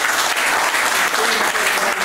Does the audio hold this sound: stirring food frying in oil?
no